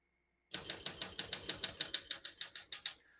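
Rapid, evenly spaced clacks of keys striking on a 1976 Olympia SM9 manual portable typewriter, steady and close, stopping after about three seconds.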